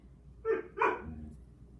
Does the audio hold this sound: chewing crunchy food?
no